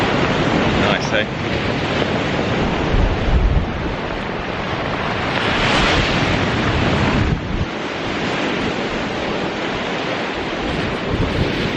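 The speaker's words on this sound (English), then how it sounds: "It's an angry sea with all of them rocks." Rough seas crash against rocks along a seafront in a continuous loud roar of surf, close by and buffeted by strong wind noise on the microphone.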